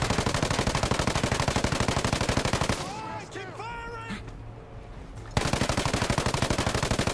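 Tom Clancy's Ghost Recon Breakpoint gunfight: loud rapid automatic gunfire bursts at start and end, with a short gap of game sounds and a voice between them.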